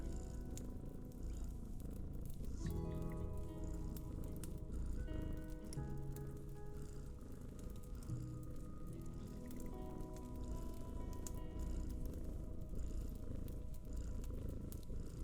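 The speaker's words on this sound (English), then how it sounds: "Also, Mike, is a cat's purring usually this loud?" A cat purrs loudly and close, a continuous rumbling purr with a rhythmic breathing pulse, with faint rustling in the background.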